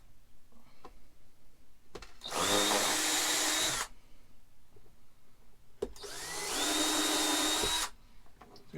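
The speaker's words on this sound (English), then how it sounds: "I'm just gonna drill a couple, probably 4 total pilots, so that I don't splinter my stuff" Two bursts of a power drill spinning up and whining for a couple of seconds each while drilling pilot holes during a camper bedroom renovation, separated by quiet handling noises and small clicks.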